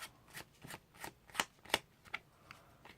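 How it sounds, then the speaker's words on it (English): A pack of playing cards is shuffled close by: a quick run of soft riffling bursts and crisp snaps, several sharper flutters in the middle, all fairly quiet and with no talking. "So just give them a nice little shuffle."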